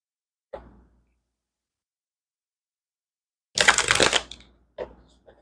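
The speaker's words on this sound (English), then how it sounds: "So I'm just going to get a couple of cards." Tarot cards are shuffled and drawn: a brief soft flick, then after a pause a dense rustling burst of cards riffling, followed by a couple of short snaps as cards are pulled, all quiet and close with no talking.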